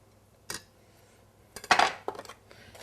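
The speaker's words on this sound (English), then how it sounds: "what you want to do is just give it a little" Couscous is stirred in boiling water in a bowl: a few sharp clinks and scrapes of a utensil against the dish, one brief knock followed by a louder cluster of scraping taps, in a quiet kitchen with no talking.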